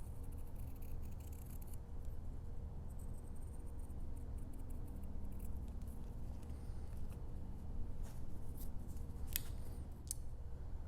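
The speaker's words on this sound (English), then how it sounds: "So I'll just cut these into ovals" Scissors snipping through fabric to cut oval egg shapes for a slow-stitching piece, a steady series of close, soft cuts with faint crisp clicks, heard alone with no talking.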